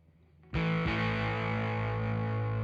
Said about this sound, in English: So I have the Pugilist distortion here.